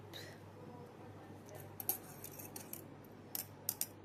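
Scissors snip through crochet yarn on a handmade jellyfish, a few small sharp clicks near the end over quiet room hiss, close and faint.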